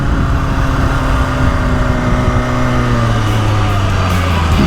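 A 2022 BMW S1000RR superbike engine pulling hard under acceleration, loud and close, with steady rising and sliding engine tones running the whole stretch without pause.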